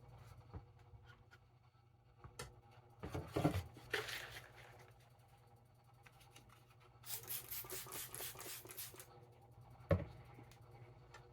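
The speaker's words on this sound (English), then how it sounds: "I'm going to work toward a burr on this stone." A Farberware chef knife is being sharpened on an Arkansas whetstone, with short bursts of gritty scraping strokes, one cluster early and a longer run of rapid rasping passes later, set against a low steady hum and occasional clicks and knocks.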